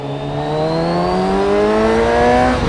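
Kawasaki Ninja 1000SX motorcycle, sharing the Z1000's inline-four engine, accelerating hard with a steadily rising, loud engine whine that climbs through the revs and drops briefly near the end, heard alone without talk.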